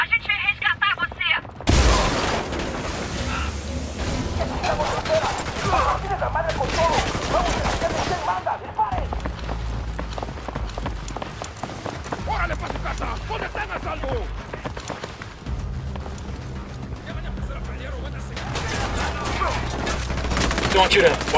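Gunfire in the video game Ghost Recon Wildlands, dense bursts of rapid shots and automatic fire rattling nearly nonstop at close range, with voices shouting over the battle.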